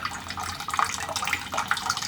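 Thin dribble of water from a household tap during a storm-related water outage, a soft continuous trickle with a few faint drips, close by and alone.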